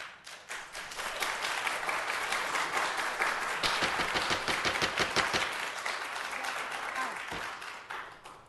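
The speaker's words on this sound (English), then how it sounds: "Please refrain from clapping." Applause and clapping break out from the audience in a city council meeting chamber, a dense, sustained patter of many hands that swells in the middle and eases near the end, with some voices mixed in.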